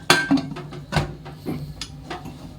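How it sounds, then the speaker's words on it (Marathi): Several sharp metallic clanks and knocks ring out close by as a pressure cooker lid is fitted and pressed into place, with short gaps between them. "आता आपण कुकरचं"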